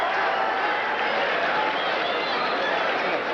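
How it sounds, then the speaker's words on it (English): A boxing crowd in Las Vegas applauds at the end of a heavyweight round, a dense, steady roar of clapping and cheering that fills the arena evenly throughout. "Very appreciative crowd here in Las Vegas."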